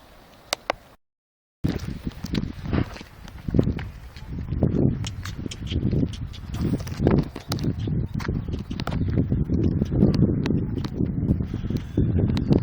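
Horses prance on ground outdoors, their hooves clip-clopping in irregular bursts with wind and rustling around them, close to the microphone.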